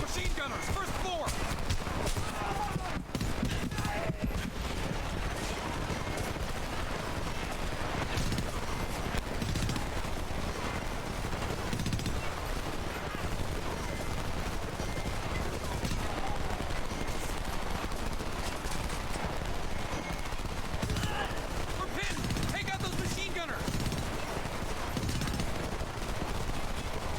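Dense, continuous machine gun fire and other gunshots in the WW2 game Hell Let Loose, crackling heavily throughout the battle with voices mixed in.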